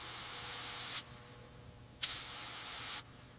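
Spray paint hisses onto restored heavy machinery in three separate bursts of about a second each, close and fairly quiet, with short pauses between.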